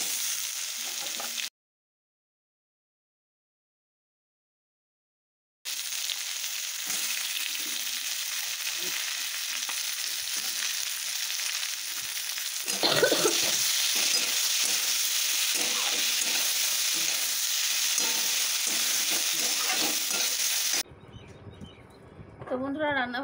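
Sliced potatoes frying in a pan, with tomatoes soon added and stirred in, give a steady sizzle broken by a silent gap and scraping stirs, while someone talks over the cooking.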